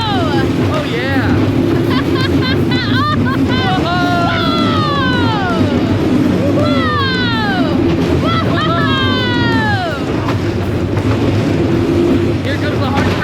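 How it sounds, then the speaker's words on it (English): Riders on Barracuda, a Zierer Flitzer roller coaster, are heard over a steady, loud rush of wind and track rumble, with sweeping squeals and screeches of the wheels rising and falling throughout. "You just joined us for our ride on Barracuda, the Zero Flitzer coaster."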